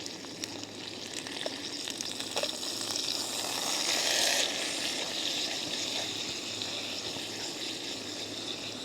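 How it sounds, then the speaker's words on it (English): A steak sizzles in an overloaded pan at a kayak campsite, a steady hissing fry that swells briefly as the meat is flipped, faint and close. "I'm going to attempt to flip this steak here. Kind of overloaded here in the pan."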